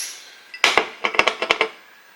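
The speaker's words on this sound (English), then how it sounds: "Then we're going to cover it with the lid." A metal lid settles onto a deep cooking pan with a quick run of sharp clinks and rattles, close and fairly loud, then fades to quiet.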